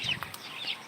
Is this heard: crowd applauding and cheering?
no